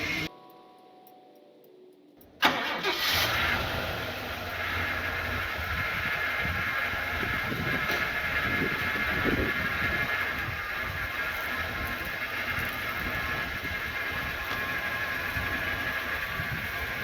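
A Ford Fairmont's engine starts inside a shipping container shed, catching with a sudden burst after near silence and then settling into a steady, loud idle with a continuous rumbling drone and faint ticking.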